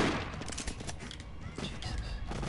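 Rapid bursts of gunfire and explosions from the BroForce video game, a dense continuous barrage of shots with a few heavier booms, loud and close throughout.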